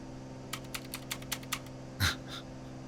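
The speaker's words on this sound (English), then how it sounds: "I'm sure y'all heard me clicking." A computer keyboard clicks in a quiet room. About six light, evenly spaced keystrokes are followed by one heavier thump, with a steady low hum underneath and no talking.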